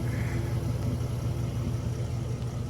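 Steady low idle from the 3.8 engine of a 2022 Nissan Frontier, its quiet exhaust note droning up close without variation or speech.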